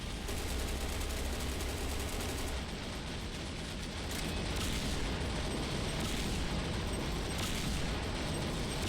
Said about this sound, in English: Also, I really like their shooting sound.